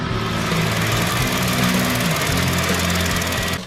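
A Bandit 2890 self-propelled hydrostatic stump grinder runs with a loud, steady engine roar and droning hum, close by and without any talk.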